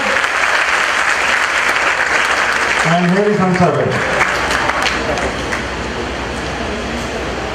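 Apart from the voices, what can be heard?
applause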